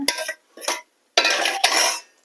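Gooseberries poured into a pan of mustard seed and asafoetida tempering for Indian gooseberry pickle, giving several short clattering bursts of fruit hitting metal with silent pauses between them.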